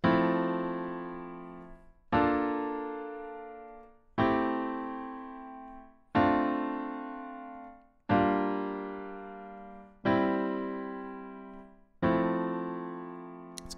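Jazz ii-V-I progression on a piano-like instrument, seven sustained chords struck about every two seconds, each ringing out and decaying before the next, played alone with no talking.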